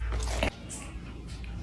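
A single crisp bite into food, close and loud, followed by a low ambient hum.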